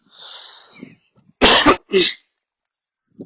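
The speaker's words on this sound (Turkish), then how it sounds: "Boğazım üşütmüşüm herhalde öksürüp duruyorum." Two harsh, close coughs in quick succession after a bit of hoarse breathy throat noise, then quiet.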